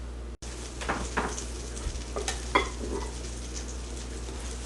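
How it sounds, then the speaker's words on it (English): Butter melts and starts to bubble in a pan before garlic goes in, a soft steady sizzle close by with a few light utensil clinks and stirring strokes over it, no talk. "this butter just starting to bubble"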